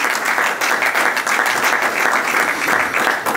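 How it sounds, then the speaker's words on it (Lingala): An audience applauds a deputy secretary general at a formal gathering, sustained dense clapping from a large crowd, loud and steady throughout with no voices standing out. "Et nous l'acclamons."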